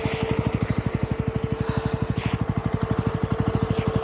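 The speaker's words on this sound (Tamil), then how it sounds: "ஸோ இருங்க, வண்டி கொஞ்சம் நேரம் ரன் ஆகிட்டு பிறகு ஆஃப் பண்ணுறேன்." A 2025 Yezdi Roadster motorcycle engine idles up close with a steady, even thumping beat, loud and alone throughout, with faint rustling above it.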